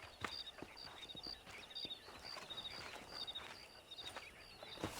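Horse hooves clip-clop at a walking pace in Red Dead Redemption, a steady run of moderately close hoofbeats with chirping birds above and faint ambient background, no talking.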